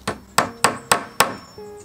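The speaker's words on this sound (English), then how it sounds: "That's going to take a lot of effort to hammer that in. As in, with the hand." Five sharp hammer strikes land on a nail going into wood by hand, spaced about a quarter second apart, each a loud close impact with a short decaying ring, followed by a faint scrape.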